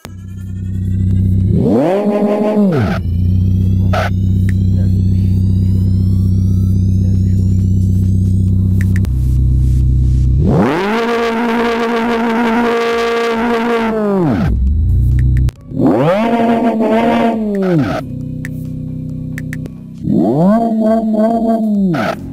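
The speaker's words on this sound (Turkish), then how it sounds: "Buradan bir tane egzoz seçeceğiz kendimize şöyle." A car's exhaust revving in the racing game Live for Speed, the engine climbing and falling through several loud bursts of acceleration with rising harmonic sweeps, separated by lower idling hum.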